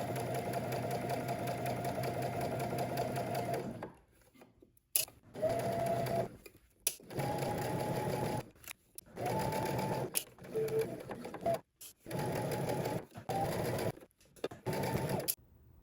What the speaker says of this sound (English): We're going to head to the sewing machine and stitch close to the folded edge.